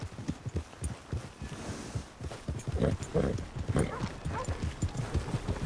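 Horse hooves clip-clop in Red Dead Redemption 2, a steady rhythmic series of close, distinct hoofbeats with a muffled game ambience underneath.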